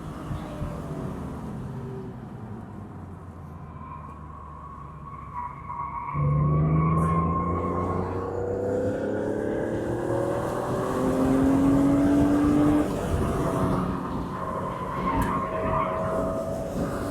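An E85 BMW Z4 M accelerates hard on a race track, engine note climbing through gears in rising sweeps, loud and close with tire and road noise beneath.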